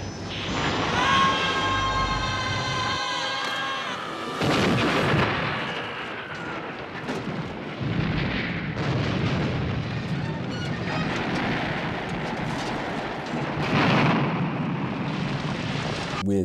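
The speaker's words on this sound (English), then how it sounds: "Michael Jackson ends up winning, exploding the entire mountain." A movie explosion blows apart an entire mountain, heavy rumbling blasts and crackling debris rolling on for many seconds, loud and continuous with repeated booming surges after a brief whining build-up.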